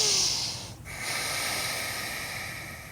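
A deep, forceful breath through the nose during a gentle mobility exercise routine, one long airy inhale that breaks off briefly and resumes as a steady rushing exhale, close and alone with no talking.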